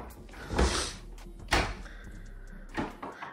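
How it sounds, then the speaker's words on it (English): A door in an Antigua villa slides and is pulled open, producing a few rumbling, scraping thuds spread across a few seconds, heard close by. "I'm gonna pull the door."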